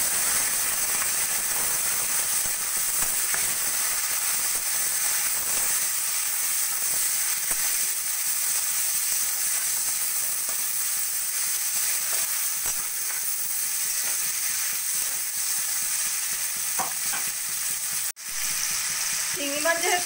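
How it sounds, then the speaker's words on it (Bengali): Prawns fry in hot oil in a kadai for a mustard prawn dish, giving a continuous, even sizzle that stays loud throughout, with only a brief break near the end. "এবার আমি চিংড়ি মাছগুলো ভেজে নেব"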